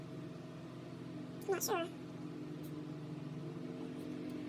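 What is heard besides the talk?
big truck passing outside house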